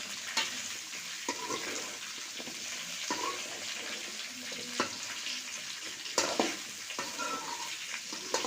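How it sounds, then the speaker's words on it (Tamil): Bitter gourd sautéing in oil gives a faint, steady sizzle with occasional stirring scrapes and knocks, heard close and without talk. "காய் கொஞ்ச நேரம் எண்ணெயிலே வதங்கட்டும், கொஞ்சம் கசப்பு இருக்காது."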